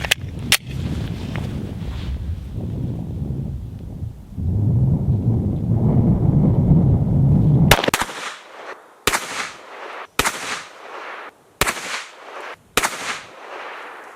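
A Glock 19X pistol fires 124 grain range ammunition at 25 yards, heard as loud, sharp single reports: two early shots, a pause, then five more spaced about a second apart, each cracking cleanly with a short decay.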